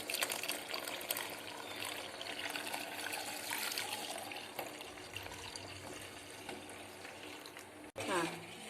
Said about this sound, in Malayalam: 1 കപ്പ് പാലും കൂടി അതിലേക്ക് ഒഴിക്കുക